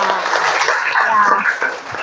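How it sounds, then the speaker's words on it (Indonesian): Applause for a student named Salsabila in a classroom, a fairly loud steady patter of many hands over about two seconds with a teacher's voice mixed in. "tepuk tangan buat Salsabila."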